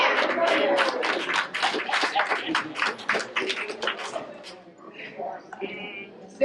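A crowd of students and guests claps through a busy, continuous round of applause at a ceremony where people are called down by name, dense and sustained before thinning out toward the end.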